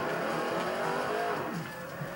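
A rear-wheel-drive car drifts in Forza Horizon 4, its engine droning steadily and loud with a continuous tire squeal layered over the motor, no voices present.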